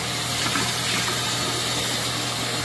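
Tap water runs steadily into a sink while hands are rinsed, a loud continuous close-up rush with a faint low hum underneath and no talking.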